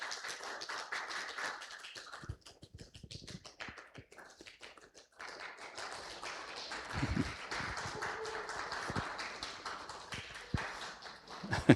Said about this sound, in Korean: 우리 성도님들 박수해 주시기 바랍니다